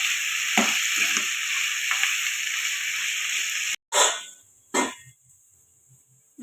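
Maggi noodles and vegetables frying in a pan, a steady close sizzle broken by a few scrapes of stirring, then cutting off suddenly and returning as short sizzling bursts after each stir.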